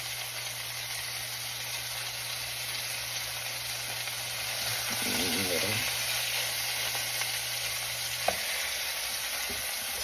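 Hamburger steak patties fry in a pan with a steady, close sizzle and hiss that swells briefly as a patty is flipped, followed by a sharp clink of a utensil; no talking.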